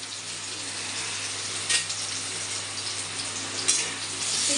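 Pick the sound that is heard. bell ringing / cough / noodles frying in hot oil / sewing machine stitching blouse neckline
noodles frying in hot oil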